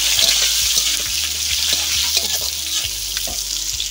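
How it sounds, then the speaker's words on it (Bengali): Potatoes poured into hot oil for a vegetarian lentil dish fry with a steady, loud sizzle and crackle, the pan occasionally stirred, with no voices. "এগুলো পুড়ে না যায় সেইভাবে তেলে দিয়ে নাড়িয়ে আলুগুলো ঢেলে দিলাম।"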